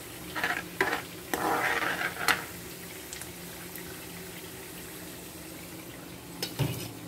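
Onions fry in a pan for a vegetable curry while a spoon scrapes and stirs in several quick bursts near the start. A soft, steady sizzle carries on afterward, with one more stir near the end.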